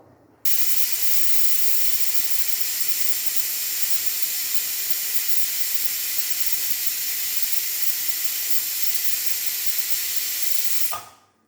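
A loud, steady hiss of steam jets from a pressure cooker whistle, holding constant for about ten seconds before cutting off abruptly.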